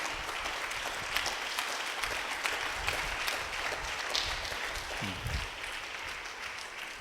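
A church congregation applauds in a dense, steady wash of clapping hands that lasts throughout, with faint voices mixed in beneath it.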